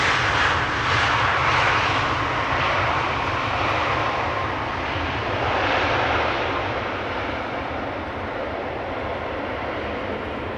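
A fixed-wing airliner comes in to land on the Polderbaan runway at Schiphol Airport, Amsterdam, its loud steady engine roar broad and sustained throughout, swelling slightly near the start and middle before easing off.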